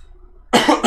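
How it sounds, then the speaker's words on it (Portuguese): A single loud, harsh cough bursts out after a short quiet pause, with a quick second hack right behind it, close to the mic. "minha tosse hoje voltou deliciosamente"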